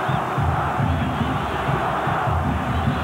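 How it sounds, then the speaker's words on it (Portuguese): A stadium crowd of Goiás football fans chants rhythmically for striker Túlio during the 1991 friendly between Brazil and Czechoslovakia, a dense roar with a repeating pulsed chant, loud and distant-sounding. "É o torcedor de Goiás pedindo o artilheiro Túlio"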